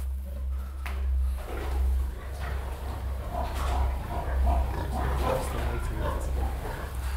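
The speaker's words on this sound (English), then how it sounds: "all the pigs have, they're thinking it's feeding time because they've all come up to say hello" Pigs gathered in a barn, expecting feeding time, give off a continuous low grunting and shuffling under steady background hum, with scattered higher snorts and squeals throughout.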